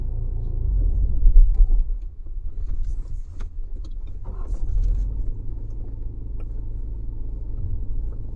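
A car engine rumbles low and steady at close range while the car is maneuvered and aligned, with slight swells in loudness and no talking.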